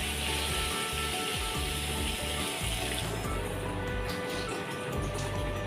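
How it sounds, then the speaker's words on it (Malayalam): Three cups of water pour into a pot of spiced chicken curry, a steady, loud splashing rush running the whole time with no voices. "3 കപ്പ് വെള്ളം ഒഴിച്ച് കൊടുക്കാം."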